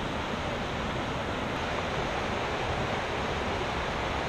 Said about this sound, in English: Made it to the waterfall